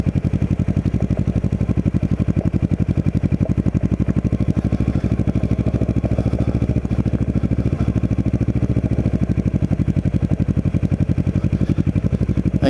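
Motorcycle ridden over rough terrain toward a Civil War veterans cemetery, its engine a steady close drone with rapid regular pulsing and rattling that lasts throughout.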